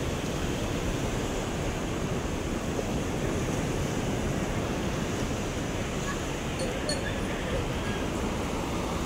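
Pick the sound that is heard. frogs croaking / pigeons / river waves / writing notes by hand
river waves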